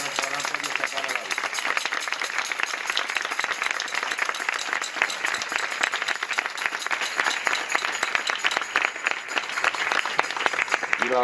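A crowd applauds continuously, dense steady clapping filling the whole stretch at an even, moderately loud level.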